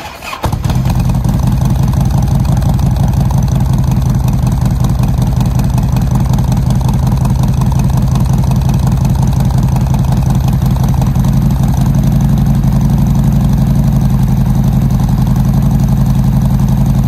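A motorcycle with a weak battery is jump-started: a brief cranking catch bursts into a loud, close engine that settles into a steady, throbbing idle and runs on without a break, with no voices.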